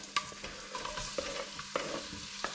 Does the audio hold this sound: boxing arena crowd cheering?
no